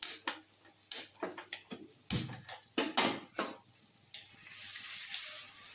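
Chopped tomato drops into a hot pan and is stirred, with a series of sharp spoon and pan clinks followed by a building, hissing sizzle near the end.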